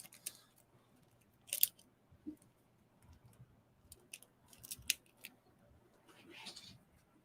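A cellophane wrapper is peeled off a cigar, producing faint, close crinkles and a few sharper crackling bursts spread across a quiet background.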